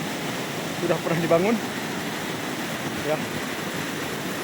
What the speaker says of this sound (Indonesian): Ini kita lihat air terjun.